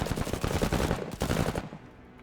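Rapid automatic weapon fire in the video game MENACE, a dense burst of shots lasting over a second before trailing off into fading echo.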